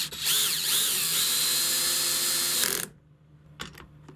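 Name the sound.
power drill driving a screw to attach an outdoor TV antenna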